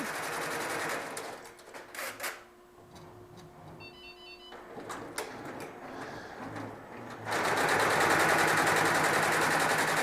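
A 4-head, 12-color Inbro embroidery machine runs its stitching heads, a steady rapid mechanical chatter that dips quieter midway, then returns loud and dense for the final stretch.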